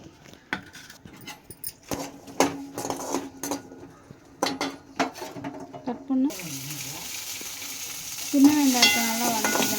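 Small onions are tipped into hot oil in a pan. Scattered clinks and taps come first, then a steady close sizzle of frying rises and continues, with brief voice sounds near the end.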